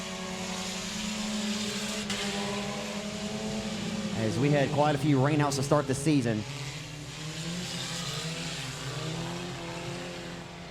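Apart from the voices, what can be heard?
four-cylinder race cars racing around a speedway track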